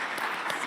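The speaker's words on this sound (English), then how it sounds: "Thanks for the clap, everyone." Brief burst of audience clapping at a BioDAO presentation event, steady and fairly loud, with no talk.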